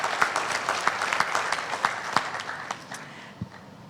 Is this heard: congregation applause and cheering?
yes